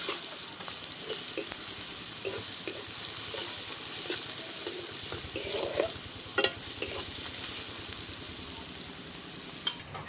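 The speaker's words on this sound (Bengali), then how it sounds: "পেঁয়াজের সঙ্গে একটু ভালো করে রসুনটাও ভেজে নেব" Onion and crushed garlic paste frying in a pan, a continuous sizzle broken by repeated spatula stirring strokes, close and moderately loud with no speech.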